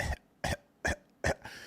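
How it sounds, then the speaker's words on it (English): A man clears his throat four times in quick succession, short sharp rasping bursts spaced about evenly, close and fairly loud. "Let me clear my throat."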